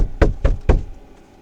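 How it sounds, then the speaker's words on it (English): Three loud knocks on a door, evenly spaced about a quarter second apart, close by and alone with no talking, fading into quiet room tone. "Knock, knock."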